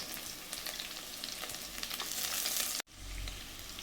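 Onions sauté in oil with ginger and garlic for a thick Kerala-style fish curry, producing a steady bright sizzle with faint stirring, broken by a sudden brief cut before the frying noise resumes.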